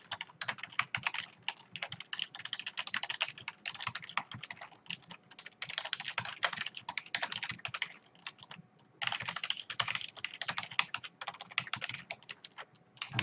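Fast typing on a computer keyboard as an account name and password are entered, with close, crisp key clicks in quick bursts and brief pauses, no talking.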